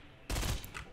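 A single sharp sniper-rifle shot in the Fortnite video game, a loud close blast with a short rumbling tail, alone with no talk.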